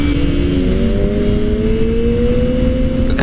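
A Suzuki Hayabusa motorcycle accelerates hard in a mini wheelie, its engine whine climbing steadily in pitch over a loud, continuous roar heard from nearby.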